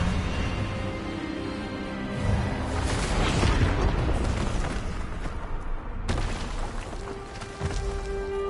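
Spell-casting blast from the Hogwarts Legacy video game, a dense, roaring burst of magic energy that swells loudly mid-clip over a rumbling game soundscape, followed by a sharp cutoff and quieter tonal effects.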